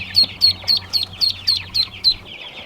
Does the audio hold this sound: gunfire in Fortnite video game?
no